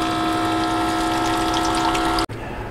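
Drinking water pumped from a tap in a dual cab ute canopy setup, a steady close humming whoosh with a rushing flow that cuts off abruptly near the end.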